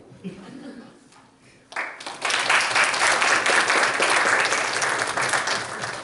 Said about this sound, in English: please applaud when he comes out